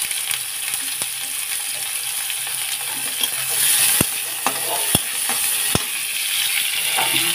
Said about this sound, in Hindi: प्याज को फ्राई कर लूंगी अच्छा से